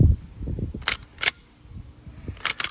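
Slide of a Walther PDP F-Series 3.5-inch pistol racked, sharp metallic clacks in two quick pairs, close and distinct, with handling noise between them.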